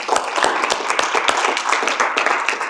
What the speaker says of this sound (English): So a little round of applause for Jack.